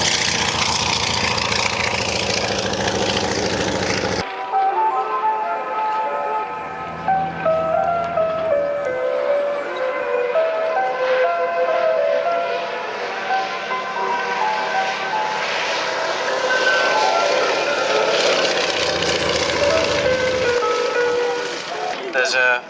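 A display aircraft with a 1,000 hp nine-cylinder 27-litre radial engine drones steadily at an air show, a loud continuous engine roar with shifting tone that persists throughout while a commentator speaks over it.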